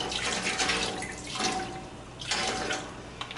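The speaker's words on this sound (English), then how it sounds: "I'm going to go ahead and pour in some apple cider vinegar." Apple cider vinegar is poured into a pot for cooking blue crab, a soft steady splashing stream in bursts, fairly quiet and close.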